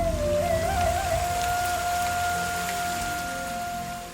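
Rain falling steadily outdoors beside woodland huts, a continuous dense hiss of drops with a sustained tonal drone running underneath, fairly loud and even, easing slightly toward the end.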